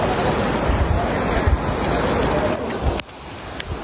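Rushing water from heavy rain, a broad steady wash up close with wind buffeting across it, easing slightly near the end.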